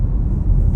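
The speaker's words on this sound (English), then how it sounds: "It's an SS, so of course you're still going to hear that exhaust a little bit." A 2021 Chevrolet Camaro SS exhaust rumbles low and loud while driving, a brief, steady throaty drone heard close up.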